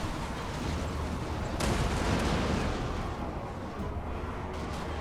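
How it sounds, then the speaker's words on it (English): Trollhammer torpedoes fire in a Total War Warhammer battle, a dense rumble of gunfire and blasts with a sharp louder volley partway through over constant battlefield noise. "Let's get to work with the trollhammer torpedoes."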